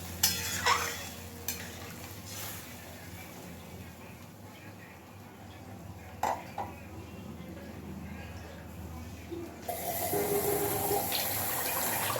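Water poured into a pan of frying spices for a thin Bengali fish curry, a broad rushing hiss swelling near the end over steady sizzling and stirring scrapes, close and moderately loud.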